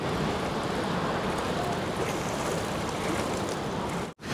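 Ocean surf at a beach in Botolan, Zambales, a continuous loud wash of breaking waves with strong wind noise and no clear voices, cutting out briefly near the end.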